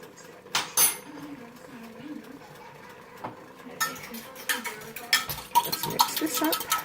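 Spoon stirring beef barley soup in a pot, with soft scraping and clinks against the metal rim, a few sharper knocks near the end, under background voices from a television and a nearby speaker.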